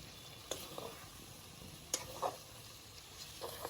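Capsicum chicken cooking down in a pan hisses with a faint, steady sizzle, broken by a few soft clicks and scrapes of stirring.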